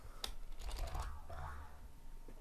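Keys on a computer keyboard are tapped in a quick, uneven run of soft clicks, fairly faint and close, slowing toward the end with a quiet background hum.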